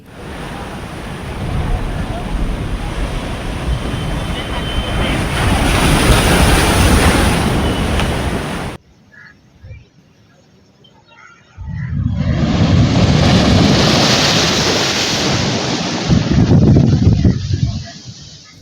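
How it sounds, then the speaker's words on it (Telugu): Sea waves surge and crash loudly on the Uppada coast in Kakinada district, with heavy wind buffeting the microphone. The roar drops away briefly in the middle, then returns strongly. "అగో అచ్చం అట్లనే దుంకుతున్నాయి అలలు"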